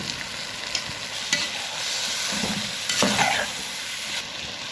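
Chicken tikka biryani masala sizzles and fries steadily in a pan after yogurt is added, with a few soft stirring scrapes rising over the continuous hiss, close and moderately loud.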